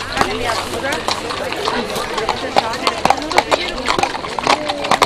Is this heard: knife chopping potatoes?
no